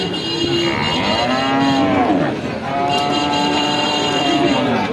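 Cattle moo several times, loud and close, at a cow sale, each low call rising and trailing off, with faint voices in the background.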